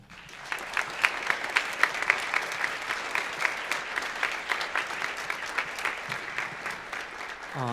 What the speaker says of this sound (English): Students, let's applaud.